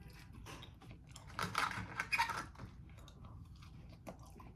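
Gas station fried chicken dipped in honey mustard sauce being bitten and chewed close up, with a burst of crunchy, wet chewing in the middle and softer mastication before and after, no talking.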